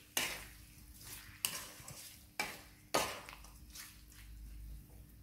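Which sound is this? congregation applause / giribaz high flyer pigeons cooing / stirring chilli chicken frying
stirring chilli chicken frying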